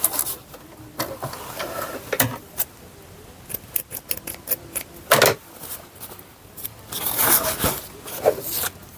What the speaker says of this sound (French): on coupe tous les fils pour faire propre